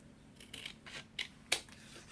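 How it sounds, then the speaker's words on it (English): Snips trim the edges of a paper pop-up Christmas card, several quiet crisp cuts spaced apart, close and isolated with no talking. "just grab your snips and just snip off a little bit"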